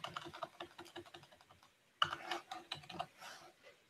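Quick clusters of computer keyboard keystrokes clatter close and fairly quiet, with a short pause and then a louder burst of typing.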